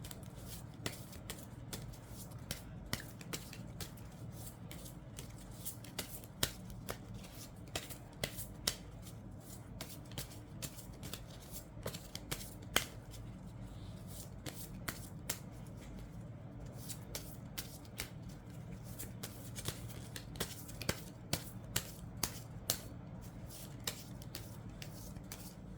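Tarot cards are shuffled and drawn in a quiet room, with a long run of soft, continuous papery riffling broken by frequent small crisp snaps of card edges. No one speaks.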